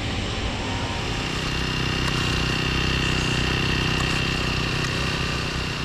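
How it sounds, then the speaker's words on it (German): A small motor on a rope-climbing moped ascender runs high up a glass building facade in Hamburg, giving a continuous droning engine hum with a steady whine, loud and unbroken throughout, with no voices. "Doch plötzlich streikt Tills Motor."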